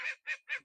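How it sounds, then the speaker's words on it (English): Geese honk near their pen on a hilltop farm, giving three or four quick, clear honks in a steady rhythm, close by and fairly faint. "There's the geese."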